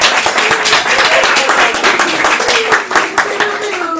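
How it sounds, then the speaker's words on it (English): A team meeting room fills with a big round of applause, dense steady clapping from many hands running throughout, with a few people's voices and cheers mixed in over it. "One big round of applause."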